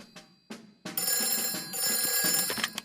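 An old-style telephone bell rings in a Peppa Pig cartoon, two short bursts followed by a longer continuous ring, clear and fairly loud with no talking over it.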